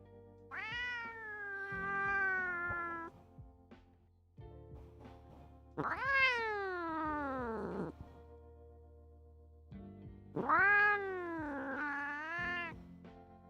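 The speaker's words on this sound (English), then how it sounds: "Maisie's a big old farm cat." Maisie, a big 13-pound domestic farm cat, lets out three long, drawn-out meows separated by pauses, close and clear with no talking.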